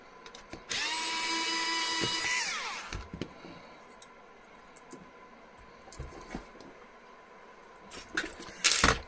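A power screwdriver whines through a couple of seconds of steady high buzzing as it backs screws out of a Humax Freesat HDR 1010s recorder, winding down, followed by scattered clicks and handling of loose parts.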